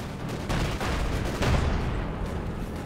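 Gunfire in the World War II strategy game Company of Heroes 2, a dense barrage of overlapping shots and bursts for about three seconds, loud and continuous with no speech.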